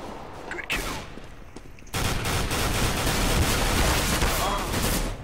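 Rapid bursts of FAMAS rifle fire in CS:GO, a dense sustained volley with a louder stretch in the second half, the shots blending into a continuous crackle.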